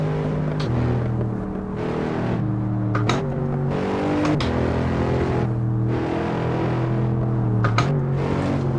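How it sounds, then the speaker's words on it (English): A car engine in a racing video game drones steadily with tonal harmonics, rising and falling through repeated gear shifts with brief revs, continuous and fairly loud throughout. "I wish the engine sound was a little bit better."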